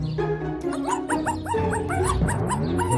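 An animated cartoon dog yips, barks and whimpers in a rapid run of high-pitched cries, close and fairly loud, over a low background.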